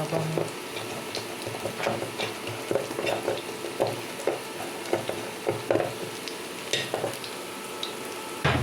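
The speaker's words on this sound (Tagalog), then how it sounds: "Ulahin po natin yun, mabangong." Food with plenty of garlic sizzling in a pan as it is sautéed, with a steady frying hiss and irregular scrapes and knocks from stirring, close and fairly quiet.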